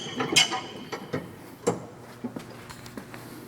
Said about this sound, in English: It's a manual tilt by turning the crank on the back of the machine.